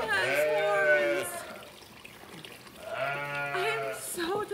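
A horned sheep on a homestead gives two long, loud, wavering bleats close by, separated by a short pause.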